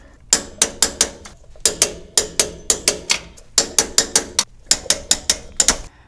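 A ratchet cranks 14mm axle nuts on a third-generation Toyota 4Runner rear axle, producing a crisp, close series of sharp clicks in short rhythmic groups with brief gaps between strokes.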